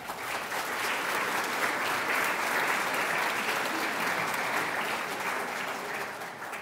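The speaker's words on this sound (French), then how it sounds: "on peut l'applaudir" An audience at a French-language community gathering or annual meeting applauds steadily, a dense, even wash of clapping sustained at full strength from start to finish without speech over it.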